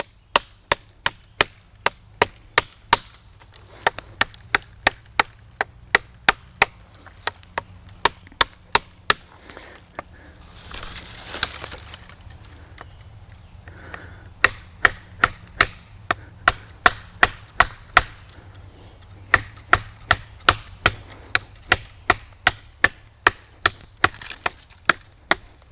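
An Old Timer full tang knife with a wrapped handle chops into wood again and again, giving sharp, loud, evenly spaced woody thwacks with a brief rustling pause in the middle and no talking.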